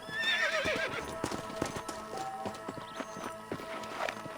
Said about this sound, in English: Whoa, leave the horses here and follow me.